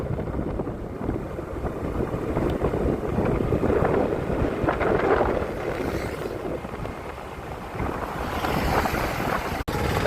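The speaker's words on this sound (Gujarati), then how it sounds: "આ આપણી એક્ટિવા છે" A Honda Activa scooter riding along a road, with steady engine drone mixed with heavy wind buffeting the microphone throughout, loud and continuous, with no talk.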